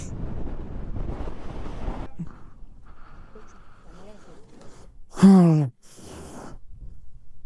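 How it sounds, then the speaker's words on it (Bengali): Strong wind on a winding road near an island at Bangladesh's southern tip buffets the microphone with a heavy roar for the first two seconds, then the scene quietens to a low background with voices and one brief loud burst. "অতিরিক্ত বাতাস"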